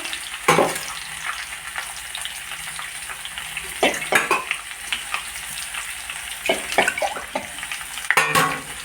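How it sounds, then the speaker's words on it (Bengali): Potato and mixed vegetables fry and sizzle steadily in a pan, with repeated scraping stir strokes and utensil knocks against the metal, close and fairly loud, no talking. "সব সবজিগুলো দিয়ে একটু নাড়াচাড়া করে দেবেন। দেখুন নাড়াচাড়া করে দেবেন।"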